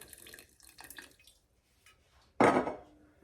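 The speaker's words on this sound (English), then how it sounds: "then to feed my Big Mama starter, I'm gonna add water" Tap water splashes briefly and loudly into a sourdough starter jar after a quiet stretch with faint kitchen clinks, then tapers off, with no talk.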